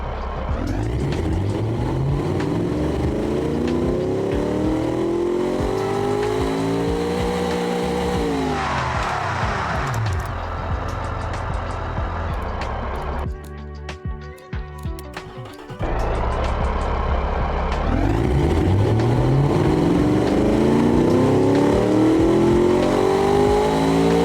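A car engine with a manual five-speed gearbox in the game Automation revving and climbing through gears, with shifts and a brief quieter lull before it accelerates hard again.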